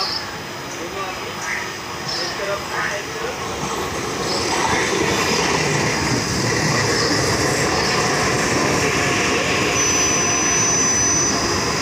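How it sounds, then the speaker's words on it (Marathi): A 12-car Mumbai local train rumbles steadily along platform 2 as it arrives, growing louder midway, with a high whine and scattered clanks over the noise. "प्लॅटफॉर्म क्रमांक 2 वर आलेली लोकल 3 वाजून 31 मिनिटांची 12 डब्यांची"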